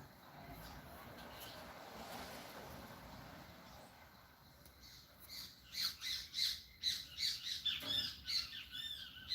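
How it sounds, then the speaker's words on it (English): Loud, harsh squawking from birds outdoors on a rainy Saturday in Trinidad and Tobago, a rapid run of repeated raucous calls rising after a quieter stretch of rain-like hiss, with faint talk beneath. "Loud birds."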